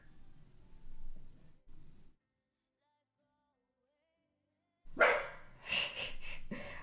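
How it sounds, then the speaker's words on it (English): A dog barks in a few short bursts, then falls quiet for a few seconds before a louder, closer round of barking breaks out again. "I don't know what she's barking at."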